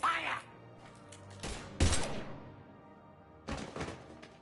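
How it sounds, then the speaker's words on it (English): Gunfire in the video game Mass Effect 3 comes in short, sharp bursts separated by quiet gaps, with a heavy thump near the start of one burst. "Now open fire!"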